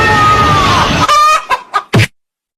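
A chicken clucks loudly in a meme clip, a drawn-out squawk followed by three short, sharp clucks close up, ending in silence.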